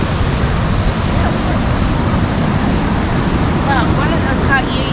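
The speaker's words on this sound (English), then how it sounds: "Those are big waves." Heavy ocean surf roars loudly and continuously near Astoria, mixed with gusting wind; a few faint voices can be heard in the background.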